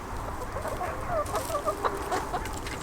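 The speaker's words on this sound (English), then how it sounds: "doing what chickens do, doing the chicken thing." Several chickens cluck softly and steadily nearby, short clucks overlapping over a low outdoor hum near a greenhouse, with no talking.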